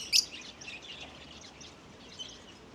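Small bird chirping in a park in Bangor, County Down, one brief high chirp near the start, a fainter one later, over quiet outdoor background.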